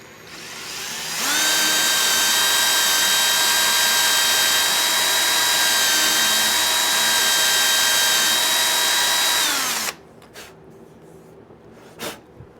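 A power drill with a 1/8 inch bit bores a pilot hole in hardwood in one steady, loud whine lasting about nine seconds, then stops abruptly, leaving a few faint clicks and knocks.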